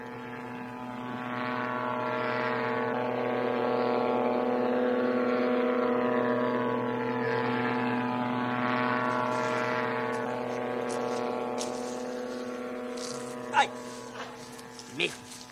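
Ultralight aircraft engine droning steadily in flight over Indonesian volcanoes, a constant harmonic hum with a slowly wavering pitch and a few sharp clicks near the end.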